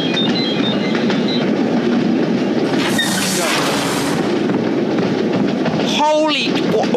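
A train runs in the video game City of Steam with a continuous loud rumbling rattle, a hissing burst midway and a tonal squeal near the end, under game voice chatter.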